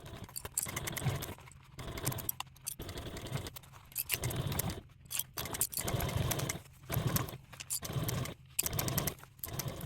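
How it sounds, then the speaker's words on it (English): Sewing machine running in bursts as it sews a 1/4 inch seam along the gusset edge of a fabric sling bag, the motor whirring in repeated short runs separated by brief pauses, close and steady with no talk. "you want to take this to a machine, and with the gusset side up, you want to sew out a 1/4 inch seam allowance away from that edge"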